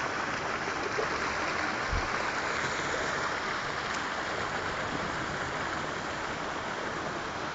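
Black polluted water from illegal drains pours into the sea at Zapponeta, a steady rushing, splashing wash of water heard close and continuous, with no talking.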